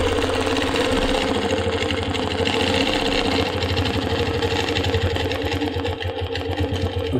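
Sewing machine stitching long straight quilting lines for a Baptist Fans design, a steady continuous mechanical whir with rapid rhythmic needle pulses running throughout, close and fairly loud.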